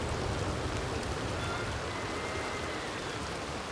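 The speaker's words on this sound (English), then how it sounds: "It's raining at the moment." Steady rain in the Red Dead game world, a dense even hiss of falling drops that holds at the same level throughout, with no voices.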